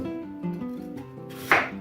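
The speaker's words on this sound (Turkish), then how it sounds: "Şimdi bu patatesleri alacağız arkadaşlar. Güzelce bir doğrayacağız." A knife cuts potatoes into wedges on a board, a few dull thuds spaced apart followed by one sharper chop near the end, close by and without speech.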